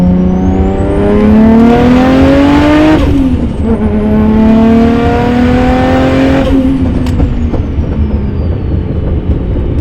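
A modified Nissan R32 GT-R engine screams up through the gears in two loud sweeps, dropping back between pulls, then settling into a steady drone.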